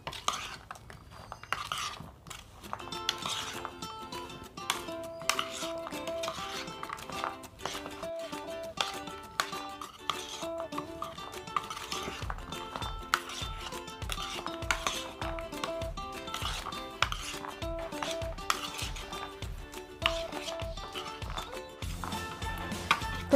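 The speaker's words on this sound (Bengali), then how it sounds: "এবারে আমি সমস্ত উপকরণ সুন্দর করে আবার মিশিয়ে নেব।" Protein salad ingredients and spices tossed and stirred together in a bowl, giving a steady run of clinking, knocking utensil strikes with soft rustling throughout, close up and without talk, under a quiet musical backdrop.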